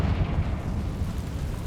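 Confringo fire spell cast in Hogwarts Legacy, a short deep explosive boom with a rumbling blast that fills the whole moment, heavy and loud with no voices.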